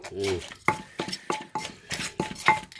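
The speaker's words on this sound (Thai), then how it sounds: "คนกุ้ง" A spoon works shrimp around in a pot, making a run of about seven rhythmic scraping and clinking strokes, close and fairly loud, after a brief voice at the start.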